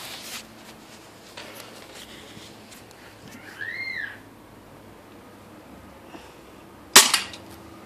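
Quiet outdoor air, then one sharp gunshot crack near the end with a brief ringing metallic ping trailing after it.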